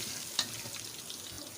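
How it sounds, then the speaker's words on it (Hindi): Cumin seeds fry in hot oil for a chicken shorba, making a soft, low sizzle with one sharp tap or crackle near the start, faint and without voices. "ये जो हमारे पास ज़ीरा है ये डाल देंगे। इसको अच्छी तरह से ब्राउन कर लेंगे"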